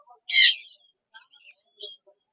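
Songbirds at the Mirpur bird market give three short, bright chirping bursts: a louder, fuller one first, then two fainter, scattered calls, with near silence between.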